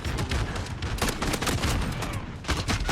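AA-12 automatic shotgun firing in Modern Warfare with explosive rounds, a dense rapid string of loud booming blasts fired at a distant target, each shot overlapping the next in a continuous barrage.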